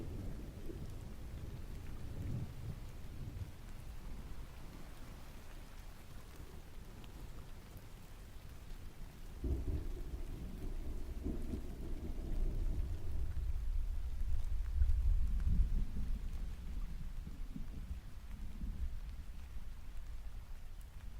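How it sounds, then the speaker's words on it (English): Thunder rolls with a long low rumble over steady rain in a moody storm ambience, the rumble swelling partway through and sustaining before easing off, fairly quiet and with no voices. "Was really hoping to plant like a crack of thunder right after I said that."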